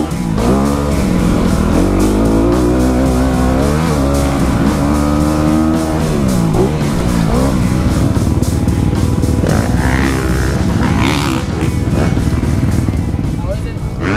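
A Honda CRF250R dirt bike engine drones and shifts pitch as the rider goes, with revving rises and falls continuing throughout, while a person talks over the engine noise.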